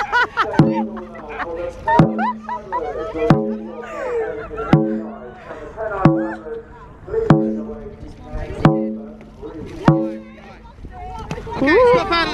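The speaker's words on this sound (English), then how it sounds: "Right then, forward paddling, ready, attention, go!" A ladies' dragon boat crew paddles forward in practice, with regular strokes splashing about every 1.3 seconds. A coach calls out over them, and the drum-like pulses sound close and rhythmic.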